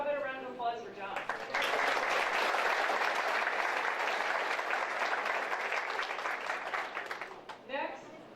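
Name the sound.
audience applause at a retirement banquet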